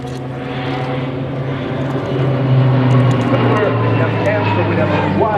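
A fixed-wing aerobatic display aircraft swoops low over a building at the RIAT 2014 air show, its steady engine drone swelling slightly louder as it passes, with a commentator talking over it throughout.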